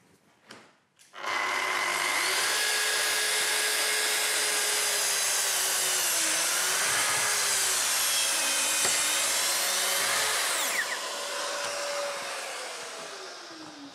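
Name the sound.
plunge saw making a plunge cut at maximum depth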